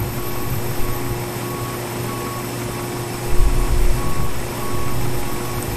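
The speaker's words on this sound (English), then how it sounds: "we've got the last bits of cargo loading up onto the aircraft now" Cargo loading vehicle at an Airbus A320 on the ramp in Microsoft Flight Simulator 2020, with steady reversing beeps over a droning engine hum and a low rumble swelling midway.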